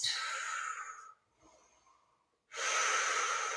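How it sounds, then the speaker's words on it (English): Steady, deep breaths during a barre workout: a long airy exhale, a quiet pause with a faint inhale, then another strong, loud exhale, all close and with no talking. "Inhale for one circle maybe, and then exhale for the next"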